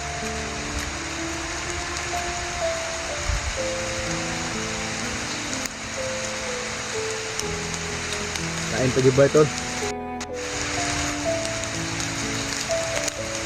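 Heavy rain pours down steadily throughout, a broad, constant hiss, while someone talks casually over it and a brief clatter sounds near the end.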